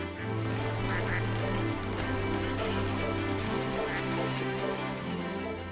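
Bar-headed geese on a wetland lake give repeated nasal honking calls, several birds overlapping close by in an ongoing chorus over steady background ambience.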